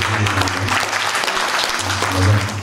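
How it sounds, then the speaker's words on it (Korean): Sustained audience applause fills the clip at a Korean MOU partnership signing ceremony, dense and steady clapping from a crowd, with a low hum running underneath. "여러분 그 깊은 박수 한번 부탁드리겠습니다"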